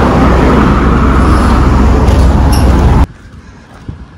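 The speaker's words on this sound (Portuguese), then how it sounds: "Só é movimentada por causa dos carros que passam aqui, porque é uma avenida" Cars going by on a city avenue in a residential area: a loud, steady rush of traffic that cuts off abruptly near the end, leaving a quieter background.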